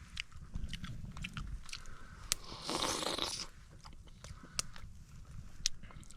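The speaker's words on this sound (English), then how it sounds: "We're gonna go in for that first bite." Close crunching bites and steady chewing on cooked trout outdoors, soft and intimate with small clicks and mouth sounds, no talking.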